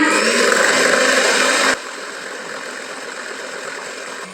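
Electric hand beater whipping cream on high speed for a pineapple cake, a loud steady whir that drops to a softer, lower hum partway through, with no voices.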